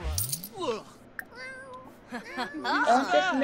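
A cat meows in The Sims 4, a few drawn-out, pitch-bending cries in the middle and near the end, mixed with other game sounds and a short metallic clink.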